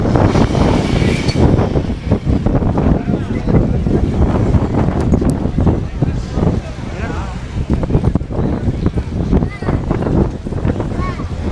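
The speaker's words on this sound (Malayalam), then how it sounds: "നല്ല കാറ്റാണ്, ഭയങ്കര കാറ്റാണ്" Strong wind gusting at Dhanushkodi beach, a loud constant roar buffeting the microphone throughout, with people talking over it.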